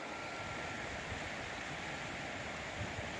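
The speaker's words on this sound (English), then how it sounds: "You can hear that water running." Steady broadband rushing of running water, continuous and even like a stream or falls nearby, with no voices over it.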